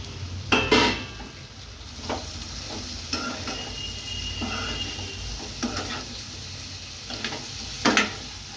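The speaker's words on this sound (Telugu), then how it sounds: "బాగా కలబెట్టుకోవాలండి కింద ఉల్లిగడ్డ ఉంది కదా ఉల్లి ఉల్లిపాయ ఇది కలిసేలాగా మొత్తం కలిసేటట్టు బాగా కలుపుకుని" A spoon stirs ivy gourds and fried onions in a pan, making scraping clinks and knocks at irregular intervals over a low, steady sizzle. The sound is close and nobody speaks.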